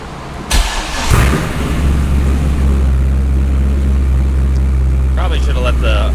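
A Procharged C5 Corvette Z06 cranks at about half a second and catches, then settles into a loud, steady idle that holds to the end. Some lighter sounds come in near the close.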